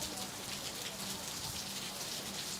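Steady rain falling outdoors at a pool championship venue, a constant dense hiss of drops pattering on surfaces, loud and even throughout.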